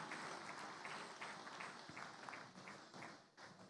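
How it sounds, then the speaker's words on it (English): An audience at an African food systems forum awards ceremony applauds with a dense, even patter of clapping, faint and distant, tapering slightly toward the end. "a round of applause for a great work that they've just done"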